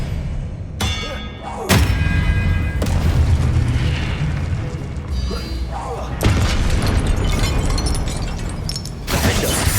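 In the Hogwarts Legacy video game, spells are cast in combat, including Expelliarmus. Loud magical booms, thuds and shattering bursts play over continuous game sound, with a voice calling out during the fight.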